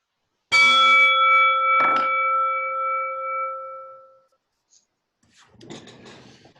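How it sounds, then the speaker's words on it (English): A bell rung to open a Rotary Club meeting gives one loud, bright strike that rings out in a long sustained tone, with a second softer knock just after and a few seconds of decay, then quiet room sounds and a voice. "Scott, if you can ring the bell to start the meeting"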